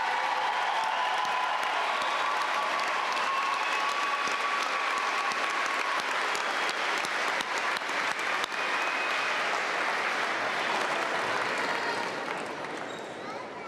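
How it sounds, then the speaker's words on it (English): A large audience at a May 2023 college commencement applauds the graduates in a long, steady, loud wash of clapping with scattered cheers and whoops, fading slightly near the end. "Let's have a final round of applause for all of our graduates today."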